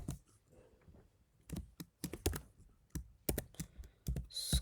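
Computer keyboard typing out a Python list of student scores, with irregular bursts of close key clicks and short pauses between keystroke runs, no voices.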